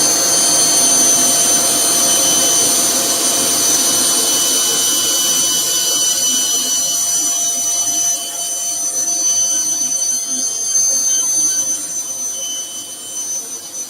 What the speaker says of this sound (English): Let me just do a little bit more sanding.